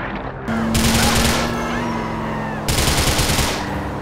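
Rapid automatic gunfire in Grand Theft Auto IV, loud and sustained in two dense bursts separated by a brief break, with game sounds layered underneath.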